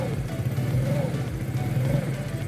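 A TVS NTORQ scooter engine idles roughly and unsteadily, a continuous low, close mechanical hum with a wavering pulse throughout, with no clear speech.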